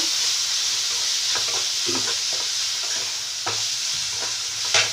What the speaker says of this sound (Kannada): ಈಗ ಇದಕ್ಕೆ ಟೊಮೆಟೊ ಹಾಕ್ಕೊಳ್ತೀನಿ ಲಾಸ್ಟ್ನಲ್ಲಿ ಚೆಂದ ಫ್ರೈ ಆಗಬೇಕು